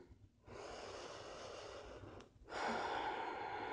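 A slow, deep inhale during a morning yoga flow, soft close breathing that swells after a brief pause and continues alone without talk.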